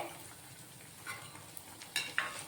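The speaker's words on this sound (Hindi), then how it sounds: "इस नाश्ते को हम लो आंच पर ही फ्राई करेंगे" Wheat flour and potato snack pieces frying on low heat in a kadhai, a steady soft sizzle with a few sharper pops and light clinks of a stirring utensil, close and without talk.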